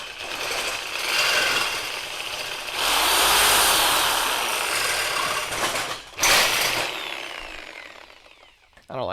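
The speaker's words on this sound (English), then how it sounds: "I probably could get it with the reciprocating saw." A reciprocating saw cuts through a piece in a home garage workshop, loud rasping bursts with a brief pause near the middle before the blade resumes, then trails off.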